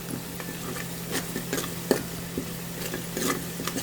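Ingredients frying in oil in a pan for Telangana-style broad bean kudumulu, a close, even sizzle with light stirring taps and one sharper knock.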